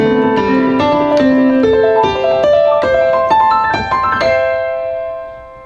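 Piano arpeggio notes embellish a melody, with clear successive plucked tones rising and falling in a flowing, evenly paced line, close and fairly loud, then ringing out and fading at the end.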